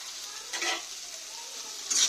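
Chopped tomato dropped into a hot pan with ginger and garlic, giving a soft sizzle with a couple of brief stirring swells, faint and close.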